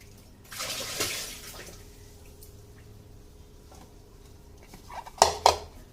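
Cut pointed gourds (potol) get washed in a bowl of water, with splashing and sloshing bursts at the start, a quieter stretch of soft drips and handling, then a couple of sharp clattering splashes near the end.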